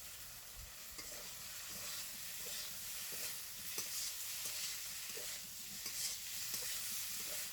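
Vegetable stems frying and being stirred in a spiced masala for a village-style Bengali pabda fish curry, a steady sizzle with repeated scraping stir strokes throughout.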